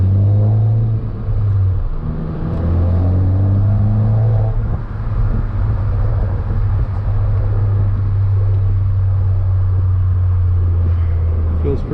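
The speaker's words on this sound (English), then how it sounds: "I do get a little bit of the air filter turbo sound, but nothing too crazy." Ford Focus ST engine fitted with a Mishimoto air intake, heard as a loud steady droning rumble with a faint turbo whir, steady from start to finish inside the car.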